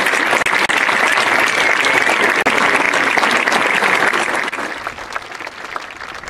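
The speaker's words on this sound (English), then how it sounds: "Please give this year's valedictorians a round of applause." An audience at a 2018 high school graduation ceremony applauds the valedictorians, a dense, sustained burst of clapping that thins and fades toward the end.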